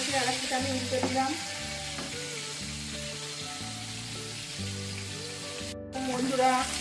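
Chicken leg pieces sizzle steadily in hot oil with a continuous crackling fry, while music plays softly underneath.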